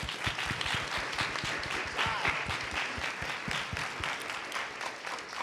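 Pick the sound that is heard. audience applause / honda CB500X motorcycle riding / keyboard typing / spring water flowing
audience applause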